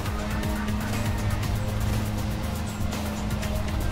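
Riding lawn mower tractor engine in Lawn Mowing Simulator, a steady loud droning hum with a constant low tone throughout, running without pause.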